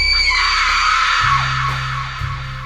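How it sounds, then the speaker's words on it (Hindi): A loud, piercing human scream of someone in pain echoes out of a jungle. It is sustained and harsh, then shifts lower and rougher midway as it continues. "अचानक से बहुत तेज़ किसी की चिल्लाने की आवाज़ आया जंगल से"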